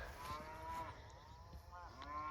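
Cattle mooing during a cattle drive across farm land, several overlapping drawn-out moos from a few animals, faint and somewhat distant, over a low outdoor background.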